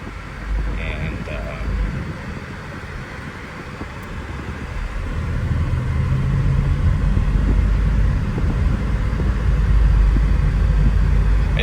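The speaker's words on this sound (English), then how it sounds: "it's so crazy to drive this right now because the other Type R that I have has an exhaust, and then this one is so quiet" A Boost Blue Honda Civic Type R FK8 with its quiet stock exhaust drives along as a low, muffled engine and road rumble that swells steadily louder partway through.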